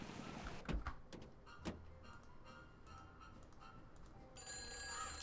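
Telephone ringing in the Nancy Drew: Secret of the Old Clock video game, a repeated electronic ring over quiet game ambience, steady and moderately loud, with a few clicks and soft thumps early on.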